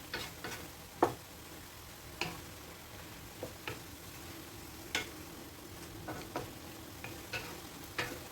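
A spoon scrapes and clinks intermittently against a cooking pot while pinapaitan, an Ilocano stew, is stirred, with faint sizzling in between the sharp ticks.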